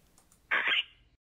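Clicker creature sound effect for a TV show, the creature finding something: a single short, raspy vocal rattle lasting about half a second, close and isolated against near silence.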